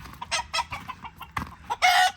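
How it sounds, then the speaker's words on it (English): Leghorn chickens clucking close up in a winter coop in northern Wisconsin, a quick run of short bursts ending in a louder, longer squawk. "So the Leghorns are kind of brutal birds."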